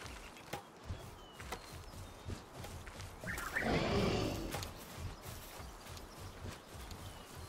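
A horse-like Pal creature in the game Palworld lays an egg, marked by a brief, fuller burst of sound mid-clip that rises out of quiet, faint game ambience.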